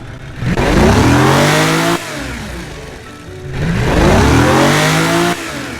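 A 1500-horsepower Japanese luxury sedan engine in BeamNG.drive revs hard twice, each loud surge climbing in pitch before dropping back, with no talk over it.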